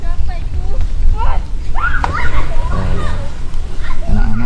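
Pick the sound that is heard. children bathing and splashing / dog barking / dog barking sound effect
children bathing and splashing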